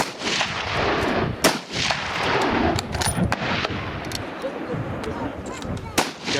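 Hunting rifles fired at an open shooting competition outdoors, a loud, dense run of overlapping shots and sharp cracks with distant and near reports mixed together, and faint voices beneath.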